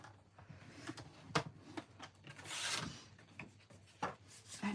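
A paper trimmer blade scores a sheet of paper, giving a few quiet, dry rasping strokes and one longer swishing slide, close by with no talking.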